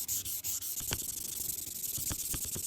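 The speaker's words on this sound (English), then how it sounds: "So I'm gonna use some 2500 grit" Hand sanding oxides off an etched knife made from an old horseshoe, using 2500 grit sandpaper: soft, close, steady rubbing with a few quick scratchy strokes.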